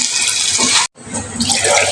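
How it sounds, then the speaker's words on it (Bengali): Water is poured onto rice and meat fried in a cooking pot, making a loud, steady splashing rush that stops briefly and then resumes, close by. "পানি দিয়ে দিচ্ছি চাল ভাজা ভাজা হয়ে গেছে পরিমাণ মতো পানিটা দিয়ে দিলাম"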